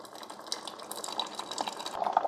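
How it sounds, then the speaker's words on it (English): Hot water trickles and splashes steadily from a Ninja CFP300 DualBrew drip coffee maker, a faint, close, continuous flow that grows slightly louder toward the end. "the hot water starts coming out."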